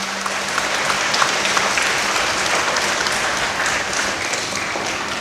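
Applause from a church congregation during a Sunday service, a steady dense clapping that holds loud and even throughout with no break.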